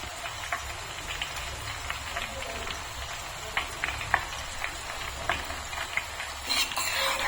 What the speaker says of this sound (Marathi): आता तुम्हाला हा आवाज येतोय चरचर असा आवाज येतोय कारण ह्याच्यात पाण्याचा अंश आहे